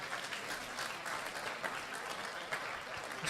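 Steady audience applause at an Italian talk on beef quality, a dense, even patter of many hands clapping throughout, moderately distant and fairly quiet, with no voices over it.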